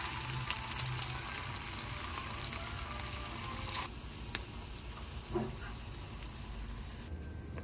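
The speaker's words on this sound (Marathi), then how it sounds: "आता आपण त्याला शॅलो फ्राय करणार आहोत।" Soybean cutlet patties shallow frying in oil in a pan, a steady close sizzle and crackle that continues throughout, with occasional light stirring or handling noises.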